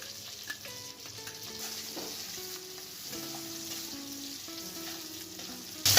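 Pieces of goat meat dropped into onions frying in a pan for haleem, a soft continuous sizzle with occasional stirring clatter and a louder burst at the very end, no one speaking.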